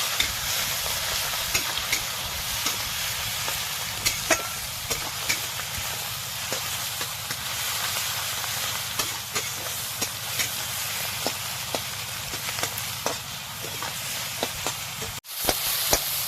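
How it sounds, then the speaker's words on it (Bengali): Chopped onion, tomato, garlic, curry leaves and bay leaf fry in a pan for a country-style jungle chicken curry, sizzling steadily with repeated stirring clicks and scrapes throughout. "এবার ভালো করে ভাজা করে নেব।"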